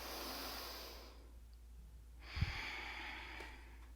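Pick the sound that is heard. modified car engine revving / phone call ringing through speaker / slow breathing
slow breathing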